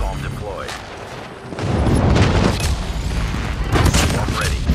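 Napalm airstrike explosions in Call of Duty Mobile: a dense run of loud, rumbling booms and crackling blasts, quieter at first and then swelling into a sustained, close barrage from about the midpoint, with gunfire mixed in.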